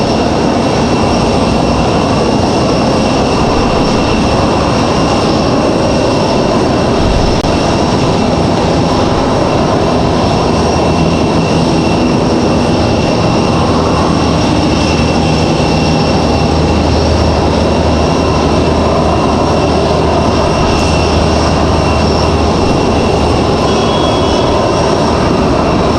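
A Delta Boeing 777 with Trent engines arrives at Raleigh-Durham airport, its engines a loud, sustained roar that rumbles on steadily for the full length, with no talk over it.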